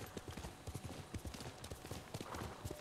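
Horse hooves clip-clop quickly and steadily in the video game Ghost of Tsushima, a brisk trotting rhythm heard faintly under background game ambience, with a brief stretch of whinny-like noise near the end.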